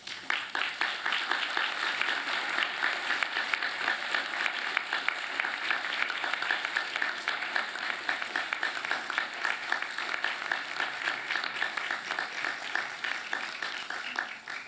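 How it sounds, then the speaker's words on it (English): Graduates at a university business school ceremony applaud their families and friends, a steady, dense wash of clapping that holds evenly from start to finish without a break. "give them a rousing round of applause because they too have earned it"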